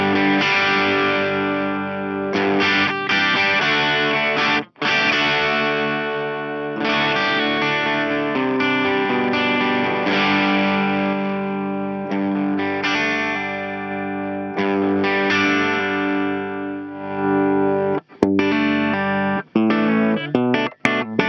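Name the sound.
electric guitar through reactive loadbox compressor, limiter kicking in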